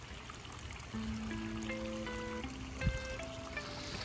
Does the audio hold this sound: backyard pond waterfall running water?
yes